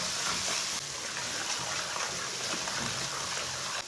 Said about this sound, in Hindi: थोड़ा सा पानी डाल लेंगे।